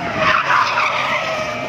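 A drifting car slides with a loud, sustained tire squeal, a steady high screech held for the whole short moment with engine roar beneath.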